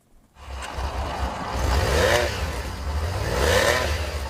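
A Honda CB six-cylinder motorcycle engine revs up twice, rising and falling in pitch with a deep rumble, close and loud.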